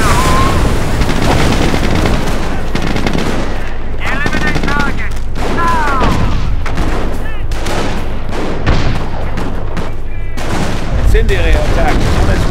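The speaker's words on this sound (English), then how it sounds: "base is under enemy fire" Heavy gunfire and bursts of fusillade pour over a base under attack in Company of Heroes: Tales of Valor, Falaise Pocket battle; sustained loud shooting with scattered booms, while voices speak over the din.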